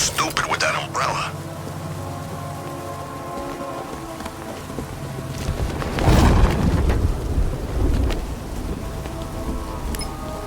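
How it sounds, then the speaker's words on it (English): Rain falls across the city in the Batman: Arkham Knight video game. A steady downpour patters on surfaces, a rumble of thunder swells midway, and other game sounds mix in. "What's with all the rain?"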